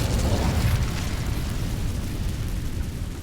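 Incendio fire spell cast in the Hogwarts Legacy video game, a loud, dense whooshing blast that roars steadily for a few seconds with a heavy low rumble, alone without talk.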